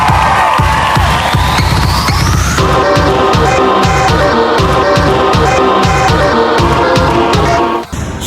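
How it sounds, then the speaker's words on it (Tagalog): Crowd cheering and clapping with scattered shouts for a star kids' team player, loud and continuous, with rhythmic thumping underneath throughout. "Palakpakan naman dyan na may konting sigawan."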